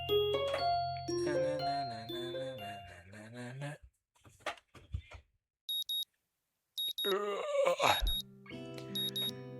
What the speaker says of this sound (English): The sound of an alarm pulls me out of a pitiful slumber and into the unpleasant state of wakefulness.